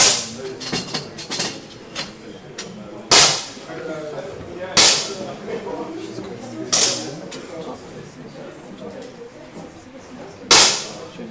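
Sharp, loud gunshots crack out at irregular intervals at an air pistol shooting competition final, four prominent blasts plus some lighter pops, with murmuring voices in the background between shots.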